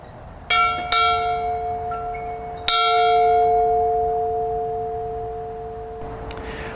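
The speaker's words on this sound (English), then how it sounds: "Slaves would hear the bell ringing out in the fields" A large plantation bell at the Gamble Plantation in Ellenton, Florida rings out a few times, its deep tone lingering and slowly fading, with distant ambient noise beneath and no talking.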